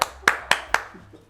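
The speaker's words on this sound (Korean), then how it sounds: "박수!" Four sharp, close hand claps land at an even, quick rhythm, each cracking out crisply before fading, with a little background noise after the last one.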